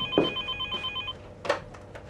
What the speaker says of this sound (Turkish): Bir dakika, telefon.